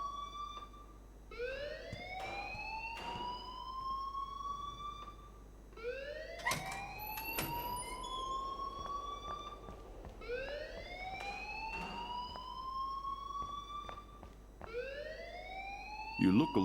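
A wailing alarm in the Life Is Strange video game climbs in repeated rising sweeps, each cycle lasting several seconds, loud and continuous with scattered clicks and knocks between cycles.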